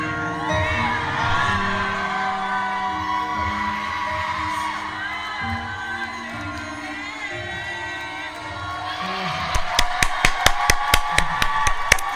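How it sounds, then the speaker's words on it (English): A person claps their hands in a quick run of sharp, close claps near the end, heard over a loud mix of music and voices. "Hopefully my claps are not that loud."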